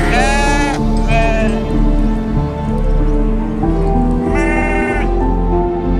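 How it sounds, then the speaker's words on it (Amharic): Several sheep bleat loudly and close by as they come to greet their owner, in bursts at the start and again near the end, over a continuous rustling background. "እነዚህ በጎች ባለቤታቸውን ከሩቅ ተመልክተው ሰላም ለማለት ሲመጡ ታይተዋል።"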